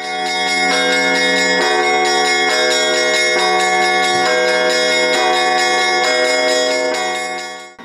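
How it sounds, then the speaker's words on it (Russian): Orthodox church bells ring loudly and continuously outdoors in thirty-degree frost, overlapping strikes pealing in a steady rhythm with a rich, sustained ringing tone. "Торжественно с колокольным звоном и молитвами в этот день православные отправились к реке"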